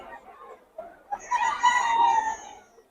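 A two-year-old gamecock stag rooster crows once at a Bocaue market, a loud, close, drawn-out call rising after some faint background chatter.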